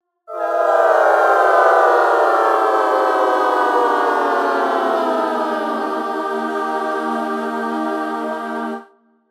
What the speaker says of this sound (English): Slow Descent has the same premise as the preset before, this time just taking longer to hit that resolve note